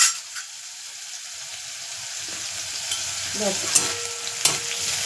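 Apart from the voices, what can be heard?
frying ghugni ingredients in a pan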